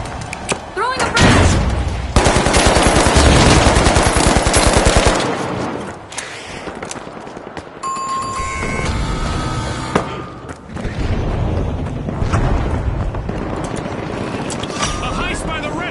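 Frag grenades get thrown and explode during a heist round of the game show shooter The Finals, amid loud continuous automatic gunfire and booms, with brief quieter lulls and a voice calling out over the action.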